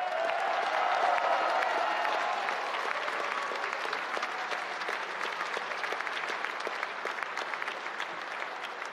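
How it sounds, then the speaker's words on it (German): A crowd at an election campaign kickoff rally claps steadily and loudly for the whole stretch, dense applause that tapers only slightly toward the end, with no speech over it. "Noch einmal einen ganz, ganz großen Applaus für unser rot-weiß-rotes Team für Brüssel."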